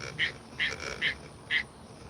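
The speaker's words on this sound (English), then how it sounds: "That's one of those tree frogs." A tree frog croaks outdoors, four short, evenly spaced calls about half a second apart, moderately near and distinct over a quiet background.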